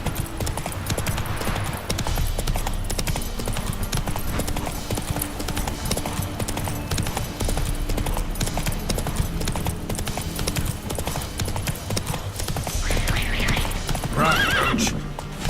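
Roach, the horse in The Witcher 3, gallops with fast, steady clip-clopping hooves throughout, and a loud whinny breaks out near the end over the game's background sound.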